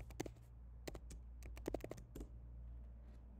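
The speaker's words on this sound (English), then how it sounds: "type your password here" Keys on a Mac keyboard being typed as a password is entered, a quick run of light clicks in short bursts with pauses, fairly quiet and close over a low steady hum.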